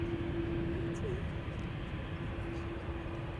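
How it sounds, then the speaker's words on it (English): Boeing 787 Dreamliner jets approaching Amsterdam Schiphol Airport produce a steady, low engine rumble with a sustained drone, continuous and fairly loud under faint background sounds. "So that's 3 Dreamliners coming this way."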